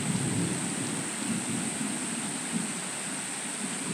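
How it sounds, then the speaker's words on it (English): Heavy tropical rain pours steadily at Liverpool Creek, with a low distant rumble of thunder rolling faintly beneath the continuous hiss of the downpour. "We're in the middle of a tropical rainstorm, and if you listen really closely, you'll be able to hear the thunder."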